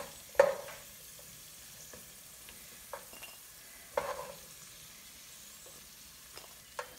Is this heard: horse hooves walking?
no